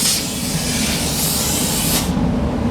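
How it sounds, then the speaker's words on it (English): Mopar rust proofing sprays from a short wand onto a vehicle's wheel lip, a loud, continuous, close hiss that runs steadily and then cuts off sharply near the end, leaving a lower background rumble. "spray it all the way around that wheel lip."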